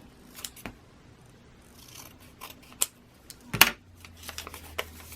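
Scissors cut through paper to shape a pumpkin pattern. Scattered quiet snips and crisp clicks come close up, with soft paper handling in between and no talking.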